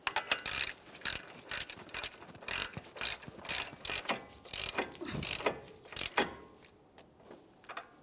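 Hand ratchet clicking as it snugs a CV axle nut on a 2014-2018 Mazda 3 during front left axle replacement, in quick bursts of pawl clicks with brief pauses, close and moderate, fading toward the end.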